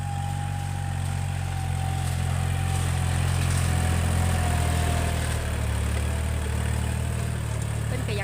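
A Kubota 40 horsepower tractor engine running steadily nearby, a continuous low droning rumble with a faint higher whine, no talk over it.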